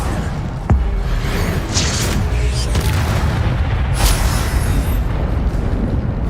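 A fiery Incendio spell cast in the Hogwarts Legacy video game: a sharp boom bursts out near the start, then a sustained roaring, crackling blast of fire carries on loudly, with further whooshing surges.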